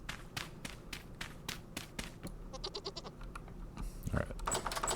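Goats in a Minecraft-style survival game bleat in quick repeated calls, fairly close, with clicking and tapping sounds mixed in.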